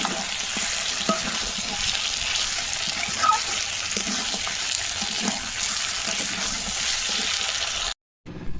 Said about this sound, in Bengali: মাংস রান্না করছি। আর এই সবজিগুলো সব ভেজে নিয়েছি